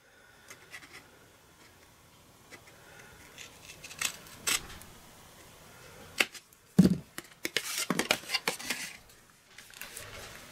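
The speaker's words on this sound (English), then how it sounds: "turn it over and cut off the surplus." Scissors snip surplus paper off a triangular cardstock gift box, starting with scattered small cuts and building to a run of brisk, close snips near the end.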